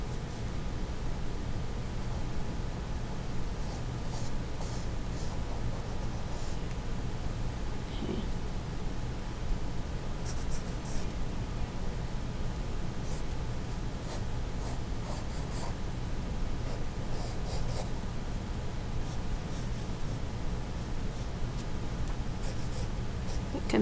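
A pencil sketches on paper, drawing the thicknesses of a leather object with a buckle, in soft scratchy strokes that come in short clusters over a steady background hiss.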